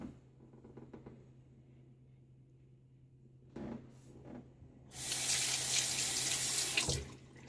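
A bathroom tap runs to rinse a razor after shaving, first faint background hum and brief clatter, then a steady loud gush of water for a couple of seconds that stops abruptly.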